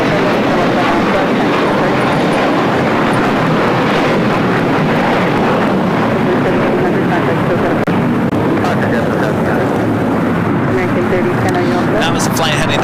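An Airbus A321 airliner heading to Fort Lauderdale at LAX, a loud sustained broadband jet roar with wind noise and a voice talking over it throughout.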